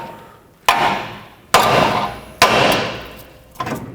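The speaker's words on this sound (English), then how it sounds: "Then with a hammer on the knuckle right here." Four sharp metallic hammer blows on a steering knuckle of a 2009-2014 Honda Fit ring out at irregular intervals, each strike loud and close with a short ringing decay, freeing the tie rod.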